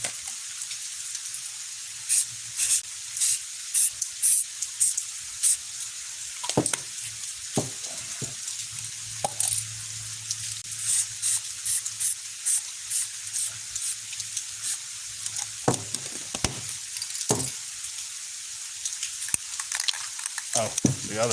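A spray paint can lays down a coat of black in a series of short hissing bursts, some brief and some sustained, fairly close and quiet, separated by pauses.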